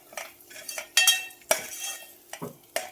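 Khoa being roasted in a pan and stirred with a metal spoon, heard as close, sharp scrapes and clinks against the pan in short bursts, with a faint sizzle underneath and no talk.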